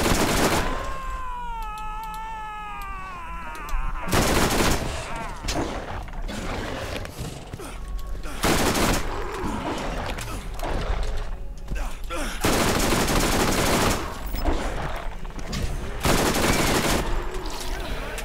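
Borderlands gunfire from a video game: repeated loud, close bursts of automatic shooting in several volleys across the stretch, mixed with game effects and some speech in between.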